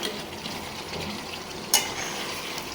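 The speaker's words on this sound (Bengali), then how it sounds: "এই যে আমার রোস্টের চেহারা দেখেন, কষাইতেছি, একটু ঝোল দিতে হবে।" Meat roast with yogurt, almond paste and spices stirred and fried in a pan, a steady close sizzle with scraping stirs and one sharp clink of utensil on pan.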